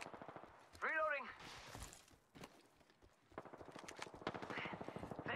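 Rapid automatic gunfire in the battle royale game Apex Legends, a close burst of repeated shots mixed with game voice lines and effects, with a rhythmic run of shots toward the end.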